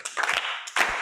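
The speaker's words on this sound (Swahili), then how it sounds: "Tumpigie makofi jamani." A short burst of audience clapping at a talk on raising children in boarding schools, a few quick hand claps over about a second.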